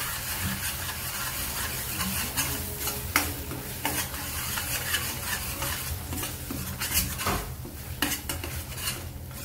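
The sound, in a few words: stirring paneer masala spices in a pan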